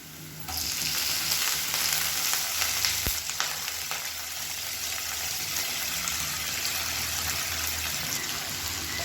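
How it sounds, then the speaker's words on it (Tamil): Chopped banana stem sautéing in a hot pan gives a loud, continuous close-up sizzle with faint stirring scrapes, steady from start to finish, with no talking. "இப்போ அதை நல்லா வதக்கி விட்டுக்கலாம்."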